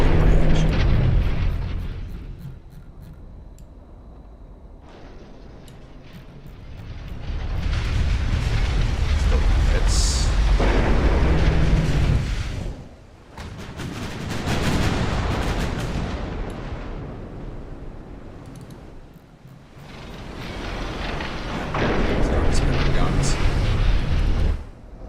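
Naval artillery guns firing in the video game Ultimate Admiral: Dreadnoughts, set in 1890, with long rolling booms swelling and fading over sustained battle rumble, and someone talking over parts of it.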